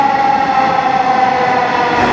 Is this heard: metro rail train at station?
yes